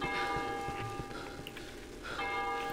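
Church bells toll in the horror video game Cry of Fear, two faint bell strikes with ringing harmonic tails spaced about two seconds apart over a quiet ambient background.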